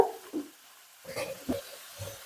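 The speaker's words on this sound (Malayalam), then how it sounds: "ഡബിൾ മീൻസ് ഇട്ട് കൊടുക്കാം കേട്ടോ ഒന്ന് ഇളക്കി യോജിപ്പിച്ചിട്ട്" Double beans are stirred into fried masala in a pan, with a few soft scraping strokes and a faint sizzle at close range, and no voices.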